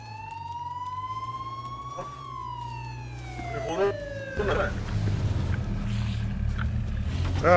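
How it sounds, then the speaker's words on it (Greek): A police car siren in the H1Z1 video game wails with steady rising and falling tones, moderately loud, then gives way to engine rumble and game noise in the second half. "Μέσα στο, μέσα στο περιπολικό."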